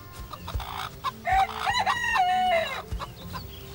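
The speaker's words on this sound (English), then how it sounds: "I'm not sleeping with chickens." Chickens cluck in a hen house while a rooster gives one loud, drawn-out crow in the middle, close and clear over a low background of fowl noise.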